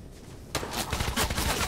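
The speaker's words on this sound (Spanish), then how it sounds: "Oh. Balazos." Gunfire in the video game Fortnite: a quiet lull, then a sudden burst of rapid shots that keeps crackling in quick clusters, moderately loud.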